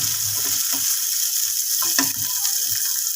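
Boiled peas sizzling in hot oil with cumin for samosa filling, a steady close fry with a few soft stirring scrapes, no talk.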